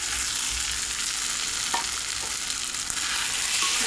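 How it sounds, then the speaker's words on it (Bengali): Fried egg bhujia being stirred into frying masala in a pan, a steady close sizzle with occasional soft scrapes of the spatula throughout. "মশলার সঙ্গে মিশিয়ে নেব।"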